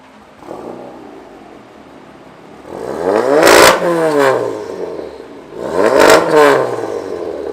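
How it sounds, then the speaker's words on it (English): A car engine at a cold start in a busy show setting revs hard twice, each rise building to a loud roaring peak and falling back, with a lower idle rumble before and between. "Rev it! Rev it! Turn it on! Cold start!"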